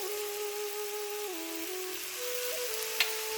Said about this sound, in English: I'm going to add to the vegetable which I'm sauteing